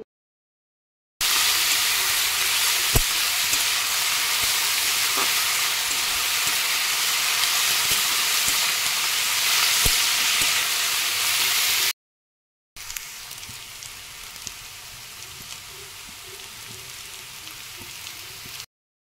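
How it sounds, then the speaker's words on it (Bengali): Cauliflower, carrot and onion fry in a pan with a steady, close sizzling hiss punctuated by sharp stirring clicks and taps, then a brief silence before a quieter second stretch of sizzling. "তো চলো এগুলো ভালো করে ভেজে নিই আমি"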